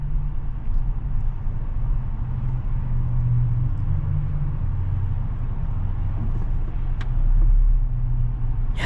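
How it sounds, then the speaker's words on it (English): Steady traffic noise heard from inside a 2026 Jeep Wrangler Rubicon X two-door convertible: a continuous low road rumble from surrounding cars, with no talk. "you can still hear the cars and everything all around"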